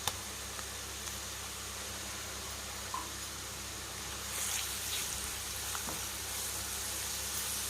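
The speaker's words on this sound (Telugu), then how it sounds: "ఎర్రగా వేగినాయి కదా అల్లం వెల్లిపాయ పేస్ట్ కూడా" Ginger garlic paste fries in a pan for prawn curry, a faint, steady sizzle hissing continuously with occasional light ticks and crackles.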